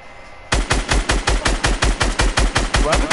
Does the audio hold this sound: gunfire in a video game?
yes